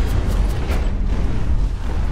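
Explosions in the mech shooter Hawken, a loud rumbling burst of deep booms and crackling blasts packed close together over a couple of seconds.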